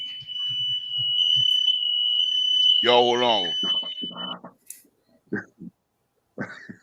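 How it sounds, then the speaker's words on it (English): A home fire alarm shrieks as one continuous high, piercing tone that runs for several seconds while someone speaks and a voice rises over it, then the alarm cuts off. "Your fire alarm going off."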